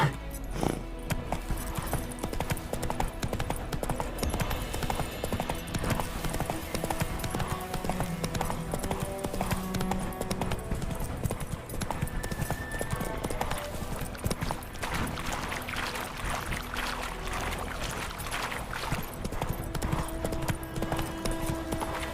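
Hooves of the horse Roach clip-clop steadily in The Witcher video game, a continuous trotting rhythm over game ambience and music that holds at an even, moderate loudness throughout.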